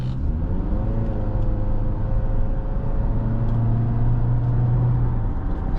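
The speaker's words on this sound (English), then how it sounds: "So yeah, it accelerates" A 2016 Honda CR-V EX-L with a 185-horsepower engine and CVT pulls forward from inside the cabin, a steady low engine drone with rising tonal hum and road rumble, fairly loud and continuous with no talking.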